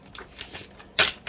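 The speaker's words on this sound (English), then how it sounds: "let me go ahead and shuffle a few more times for you." Tarot cards are being shuffled, a soft riffling with a couple of sharper card flutters near the end, close and fairly quiet, with no talking.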